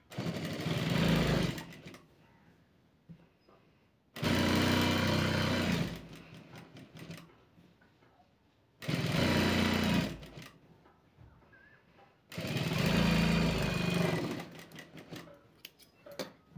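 A sewing machine stitches a blouse sleeve in four loud, steady whirring bursts of about two seconds each, separated by quiet pauses with soft handling clicks, close by and without talk.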